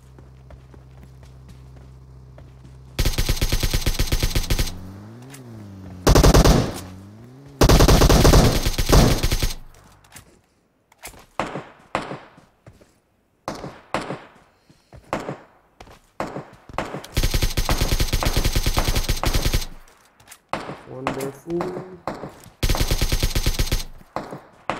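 Bursts of automatic weapon fire in PUBG Mobile gameplay, several long loud volleys broken by shorter shot clusters and quiet gaps, with scattered footsteps between them.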